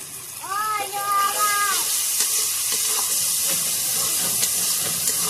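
Ground spices frying in oil with a fish head for a Bengali recipe, a loud steady sizzle and hiss with stirring scrapes, and a brief tonal whine near the start.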